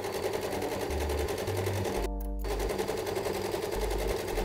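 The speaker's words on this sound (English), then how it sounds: "Which means I need to sew these down again." A sewing machine stitches pockets onto skinny jeans with a steady, rapid needle rhythm, close and continuous, with only a brief change in texture partway through.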